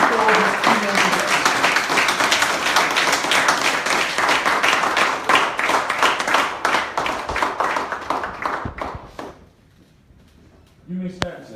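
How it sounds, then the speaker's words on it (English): Loud, dense applause and clapping fill a hall as an audience stands for keynote speaker Ayo Akinfe, sustained for about nine seconds before thinning into scattered claps and near silence, with voices mixed in. "as we give Mr. Ayo Akinfe a resounding round of applause"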